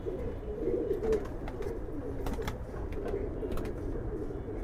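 Giribaz pigeons cooing in a crowded cage loft, soft low throaty coos overlapping steadily under a dense room murmur, with faint scattered chirps and clicks above.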